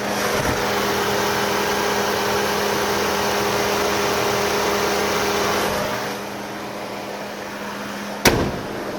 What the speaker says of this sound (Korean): 엔진음 바로 들려드릴게요.